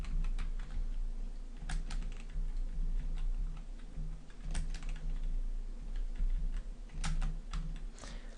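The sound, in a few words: computer keyboard keys being pressed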